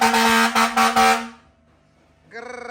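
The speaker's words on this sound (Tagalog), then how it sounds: "fire air horn project natin sa Honda Brio ni Sir Vince" Two loud, blaring fire air horn blasts from a Honda Brio with a brief stutter, then a pause and a third pulsing horn sound starting near the end.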